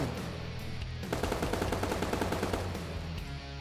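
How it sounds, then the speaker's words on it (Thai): Gunfire in the Roblox game Dead Rails rattles out as a rapid automatic burst of evenly spaced shots lasting about a second and a half, loud and close, framed by steady background game noise. "รีโหลดให้พร้อมยิงยิง"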